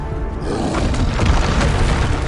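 A Bombarda blasting spell explodes in the video game Hogwarts Legacy, a loud, close, deep boom that rolls into crumbling, rumbling debris noise.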